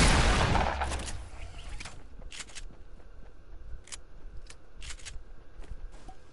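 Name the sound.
gunfire in the video game Fortnite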